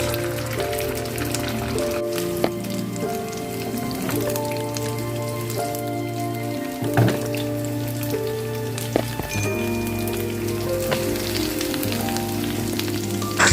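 Steady crackling and sizzling of cheese-filled kebabs frying in hot oil, continuous and close, with occasional soft pops and a faint background hum.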